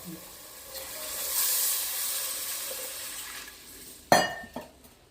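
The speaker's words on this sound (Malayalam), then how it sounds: "പിന്നെ നമ്മൾ ബാക്കി വെള്ളം ഒഴിച്ച് കൊടുക്കാം" Water goes into a simmering sardine fish curry pot with a soft rising pour and hiss, followed near the end by a sharp metallic clink and a couple of fainter knocks from the vessel. The sounds are close and moderately loud.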